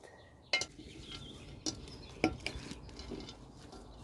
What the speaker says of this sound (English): Now we're going to mix it.